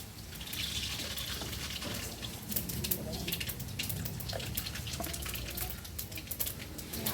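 Water is poured into a pan of Bengali vegetable chorchori on the stove, a steady close splashing and hissing pour that runs continuously with scattered drips and sizzles.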